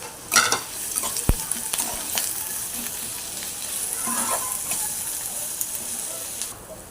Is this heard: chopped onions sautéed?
yes